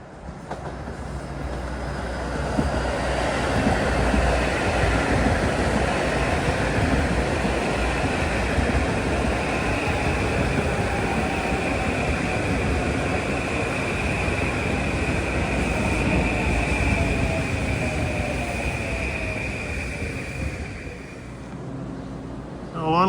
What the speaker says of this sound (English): Should have 2255 from Boston to Washington coming in.